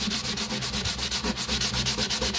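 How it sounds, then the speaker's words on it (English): Rapid rhythmic sanding strokes rasp back and forth across teak veneer on a boat, close and steady throughout with no voices. "I just experimented on it with the sanding"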